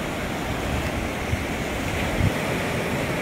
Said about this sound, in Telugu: తూర్పు వైపు ఉన్న బంగాళాఖాతం అనమాట